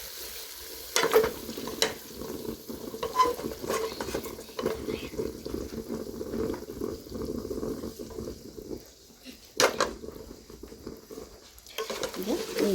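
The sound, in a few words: stirring and mixing biryani in a hot pot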